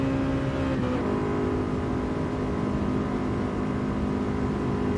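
Steady Honda car engine drone in GT Sport played in VR, a continuous tonal hum held at fairly constant pitch throughout with no speech.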